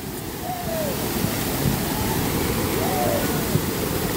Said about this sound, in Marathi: हा बघा सुंदर असा धबधबा पण खोल आहे